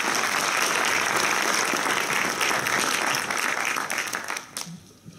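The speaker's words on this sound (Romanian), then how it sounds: "Haideți să o primim cu aplauze pe finalista noastră, Andra Diaconu!" Audience applause fills a hall at a speech contest as a finalist is welcomed to the stage, dense steady clapping for about four seconds before tapering off and fading near the end.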